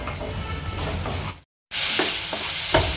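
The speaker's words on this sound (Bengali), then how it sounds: "এবার মশলাটা তেল ছাড়া পর্যন্ত ভালো করে কষিয়ে নেবে।" Spice masala stir-fried in oil in a pan for boal fish curry, a loud, steady sizzle with scraping stirs that cuts off briefly and then resumes just as strongly.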